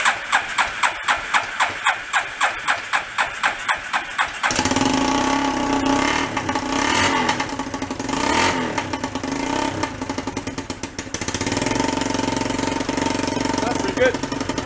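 A rat rod quad's small engine cranks in rapid repeated bursts, then catches and idles loudly, blipping up in several revs before settling into a steady running chatter.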